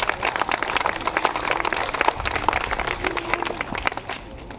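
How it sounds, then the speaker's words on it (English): A crowd at the South Carolina General Assembly claps and applauds steadily, a dense wash of hand claps that tapers slightly toward the end. "Let's give him a big round of applause"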